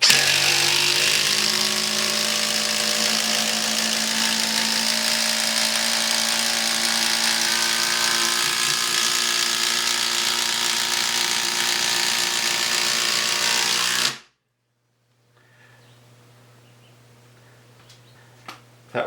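A Ryobi brushless impact driver drives a screw into pressure-treated wood, hammering loudly and continuously for about fourteen seconds before stopping abruptly, leaving near silence with a few faint clicks.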